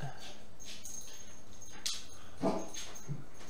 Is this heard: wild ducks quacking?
no